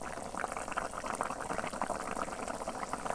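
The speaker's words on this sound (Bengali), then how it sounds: "মাছটা দেওয়ার পরেও আরও 2 মিনিট মতো ফুটিয়ে নিলেই" Fish curry with potatoes, a sea-fish jhol, bubbling and boiling steadily in a pot, a dense continuous simmer of popping bubbles at even loudness with no talk.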